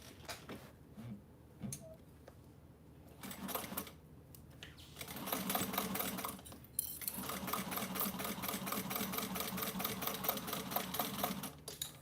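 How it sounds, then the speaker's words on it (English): A sewing machine stitches fabric in bursts, starting with short intermittent runs and then settling into longer continuous stretches of rapid mechanical whirring and clatter, close up and fairly quiet. "sew this on."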